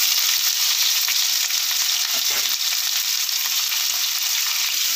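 Onion and green chilli sizzling in hot oil for an egg kurma, a steady, close, continuous frying hiss with a brief stir around the middle and no talking.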